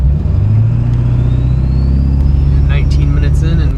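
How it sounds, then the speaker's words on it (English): A truck with a 7.3 engine rumbles steadily through downtown city traffic, a low continuous drone heard from inside the cab, with a faint rising whine and a few brief clicks near the end. "Entering some downtown city driving conditions right now."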